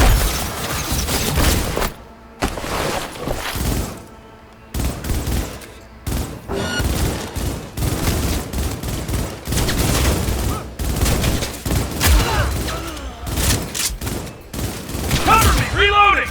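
Gunfire in the video game Cyberpunk 2077 comes as loud, rapid bursts and single shots in a chaotic firefight, with brief pauses, booms and mechanical clatter, and occasional voices shouting.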